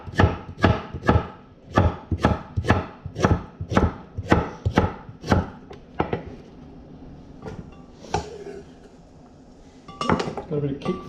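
A knife chops fresh unpeeled ginger on a board in a home kitchen, a run of about a dozen sharp, evenly spaced close knocks, then a pause and a few scattered taps with light clatter.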